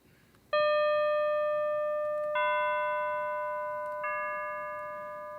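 Three synthesized bell tones, pitched high, medium then low at roughly 600, 500 and 400 hertz, each struck cleanly in turn about two seconds apart, with bright harmonics ringing and decaying slowly over a quiet background.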